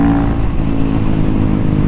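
A GasGas SM700 supermoto drones loudly and steadily at close range on a freeway, pulling hard in one continuous acceleration using the quick shifter, with no voices.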